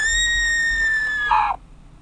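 A shrill scream rings out as a sound effect in a Spanish-language hospital horror story, holding a high sustained cry for over a second before rising sharply and cutting off abruptly.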